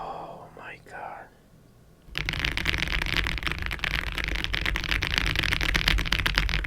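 An affordable mechanical keyboard is typed on rapidly and close up, a dense, steady clatter of keystrokes that starts abruptly after a brief soft whisper and keeps going to the end.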